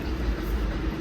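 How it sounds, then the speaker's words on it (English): A train in New York City gives off a low, steady rumble that stays faint in the background, with no voices. "Sorry for the train in the back"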